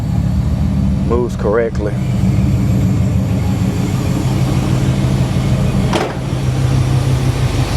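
A 455 big block engine in a G-body car, running at a loud, steady idle with brief throttle blips; someone speaks over the engine throughout.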